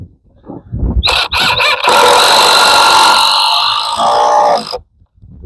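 A power drill drives screws into wood for an off-grid courtyard build outdoors, giving a loud sustained whine for several seconds after a few short bursts, then stopping abruptly.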